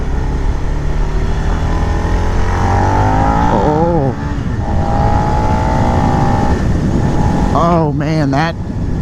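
A KTM 690 or Suzuki SV650 motorcycle engine roars and revs up in repeated climbing pulls, with throttle blips near the end, loud and close over a constant mechanical drone.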